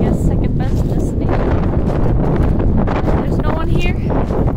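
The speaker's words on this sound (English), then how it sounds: "It's super windy." Strong wind buffets the microphone at an open outdoor spot, a loud continuous roaring rumble throughout, with faint voices occasionally audible beneath it.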